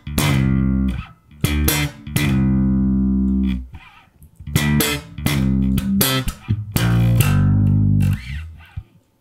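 Punchy slapped bass notes from a song, with sharp popped attacks, jumping between low and high octaves and sliding down, played alone in short bursts.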